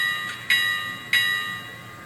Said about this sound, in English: Let's try the bell.